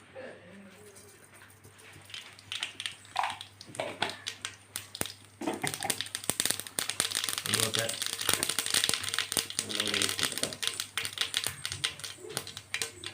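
Mustard seeds splutter in hot oil while onion theeyal is being made, a dense rapid crackling and popping that builds after a few seconds and continues close and loud, with a voice heard at the start.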